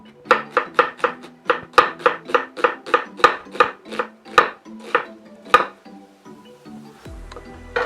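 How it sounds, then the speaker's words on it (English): A knife cuts a red onion into julienne on a cutting board with quick, even, close chopping taps, about fifteen in a row, which slow and then stop. No one speaks. "Just cut it into a nice julienne."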